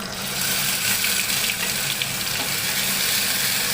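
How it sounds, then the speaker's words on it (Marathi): Ground masala paste drops into crackling hot tempering in a pan while a river-fish curry is cooked. A loud, close, steady sizzling hiss runs the whole way through, with no talking. "त्याच्यामध्ये आपण वाटण केलेला तो वाटण टाकूया"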